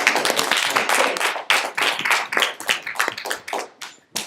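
An audience applauding after an informal economics lecture in a tea room, a dense burst of clapping hands that is close and loud, with irregular individual claps standing out and fading slightly near the end.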